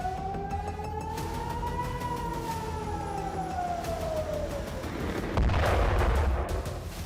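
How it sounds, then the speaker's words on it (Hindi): A wailing air raid siren over Tel Aviv during a missile attack, its tone slowly rising and falling, steady and prominent, with a louder rumbling burst near the end that could be an interception. "सायरन बजने लगी।"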